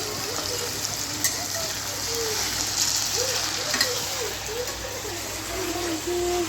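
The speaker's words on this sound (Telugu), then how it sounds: "చికెన్ అయితే ఫ్రై చేసుకుంటున్నాను రెండు టేబుల్ స్పూన్ల ఆయిల్ వేసుకొని నానబెట్టుకున్న చికెన్ అయితే వేసుకున్నానండి" Marinated chicken sizzles in two tablespoons of hot oil in a pan for biryani, a steady, close crackling hiss that runs throughout, while a voice speaks softly over it.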